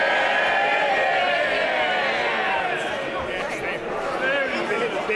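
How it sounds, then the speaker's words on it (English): MPs in the House of Commons cheer after a vote: a loud, sustained roar of many voices shouting and calling out together, dense and continuous for the whole stretch. "They're cheering a majority of 80."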